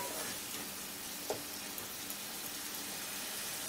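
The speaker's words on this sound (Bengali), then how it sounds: "এখন এই মশলাটাকে ভালো করে একটু কষিয়ে নেব।" Spice paste with a splash of water sautéing in a pan for a home-style Doi Pabda fish recipe gives a soft, steady sizzle with faint stirring clicks, quiet and continuous.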